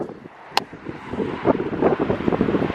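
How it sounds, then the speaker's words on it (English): Cold wind gusts steadily outdoors, a rough rumbling roar against the microphone that swells and buffets, with one brief sharp knock near the start. "It's windy."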